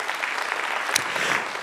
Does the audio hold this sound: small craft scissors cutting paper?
no